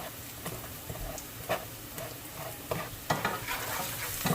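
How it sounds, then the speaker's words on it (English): A Maggi cube is crushed and stirred into rice frying on a low flame, producing a continuous soft sizzle with repeated spoon scrapes and taps close by. "I'm going to add the Maggi cube and just crush it in"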